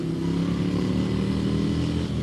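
A Ducati Scrambler 800 Enduro motorcycle engine runs at low RPM, a loud, close, steady throbbing rumble with a deep growl and no talk over it.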